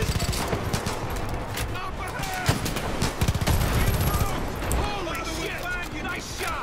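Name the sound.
gunfire in Far Cry 5 video game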